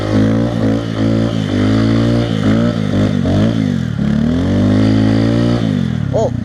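A Honda Grom motorcycle revs hard while riding and drifting in snow, its engine pitch rising and falling repeatedly in close, loud surges with scraping clatter and a brief shout at the end.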